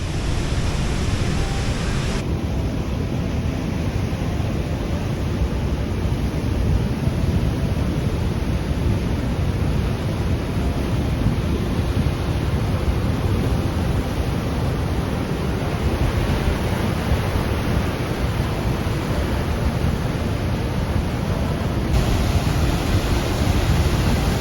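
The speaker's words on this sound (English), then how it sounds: "as you could hear the falls before you got to it." Murchison Falls on the Nile in Uganda roaring without a break, a dense, loud, steady rush of falling water that fills the whole scene.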